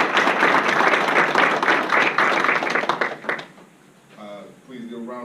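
Audience applause fills a school board meeting room, dense steady clapping for about three seconds before it thins into scattered claps and fades, followed by a brief tonal sound at the end.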